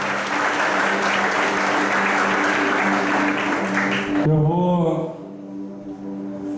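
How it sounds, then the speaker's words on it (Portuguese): Sustained applause from a church congregation fills a worship service, loud and even for about four seconds before cutting away to quieter sound with a voice and sustained tones. "Será que você pode aplaudir o Senhor?"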